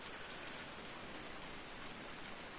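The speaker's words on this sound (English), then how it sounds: "where we left off last time, it is still raining" Steady rain falls in Farming Simulator 19, a dense, even hiss of drops on surfaces that continues unbroken at moderate level, with no voices.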